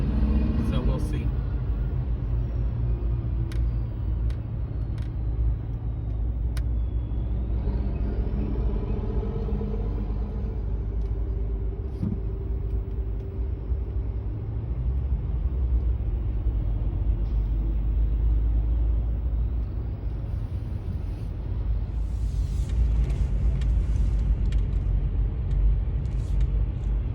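A car drives along a road with a constant low rumble of engine and tyres from inside the cabin, while a voice talks over it throughout.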